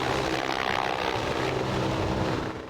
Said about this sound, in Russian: на площадь возле Конгресс-холла приземлился новый вертолет «Ансат»